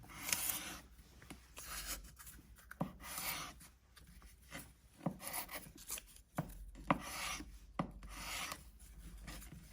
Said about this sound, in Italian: Facciamo quest'altra prova di taglio.